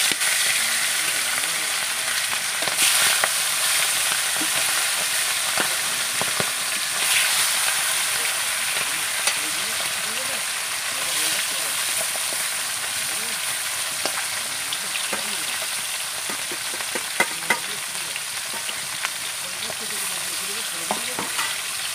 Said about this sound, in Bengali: কড়াটা আমার গরম হয়ে গেছে, এবার আমি দিয়ে দেবো মাছ।